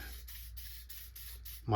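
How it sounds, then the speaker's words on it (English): Professor PEW product sprays in a quick series of six short, soft hissing puffs at a steady rhythm, close by, ending as a voice begins. "I just spray a little bit on there and I pull that through a couple of times from both directions."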